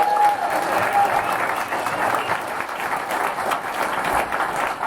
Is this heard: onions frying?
no